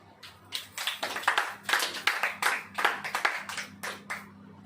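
At a Hindi church sermon, a congregation claps in unison, about a dozen loud rhythmic claps in a steady beat over a low electrical hum.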